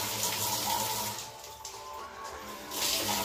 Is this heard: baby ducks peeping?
no